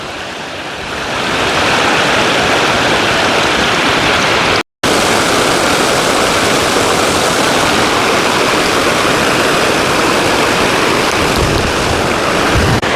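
Donabanda waterfall pours down a rocky hillside at Gottemukka, a loud, dense, unbroken rush of falling water that swells in the first seconds and then holds steady, briefly cut by a short gap, with no voices.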